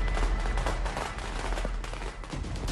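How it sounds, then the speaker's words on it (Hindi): Firecrackers burst all around on Diwali night in Ghaziabad near Delhi, a dense, continuous crackle of overlapping pops and bangs at mixed distances, loud and unbroken. "हर तरफ लोग पटाखे छोड़ते दिखे, कहीं कोई रोक टोक नहीं थी।"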